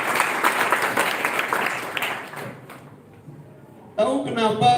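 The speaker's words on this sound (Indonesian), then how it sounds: "Mari kita berikan tepuk tangan untuk Pak Wira" A crowd applauds for a few seconds at a Balinese language month event, the clapping fading out into near silence before a voice begins speaking.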